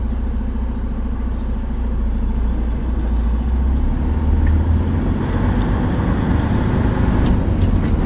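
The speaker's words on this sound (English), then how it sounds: "we're going to move our truck forward to 5 miles an hour" Truck creeping forward at about 5 mph during a service brake test on a CDL pre-trip inspection, with a steady low engine rumble throughout and faint clicks and rattles.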